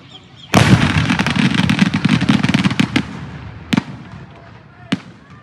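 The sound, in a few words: firecrackers exploding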